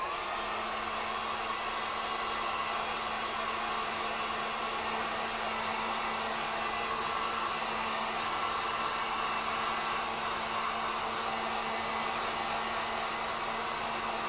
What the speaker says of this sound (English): Let me throw my heat gun on this real quick.